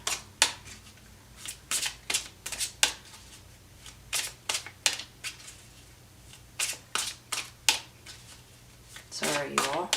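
Tarot cards are shuffled by hand in a steady run of crisp, close riffling bursts and slaps, repeating in quick uneven rhythm across the stretch, with a brief soft voice near the end.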